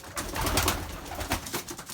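Belgian racing pigeons coo softly and repeatedly in a loft, low throaty calls over a steady background hiss, with no voices.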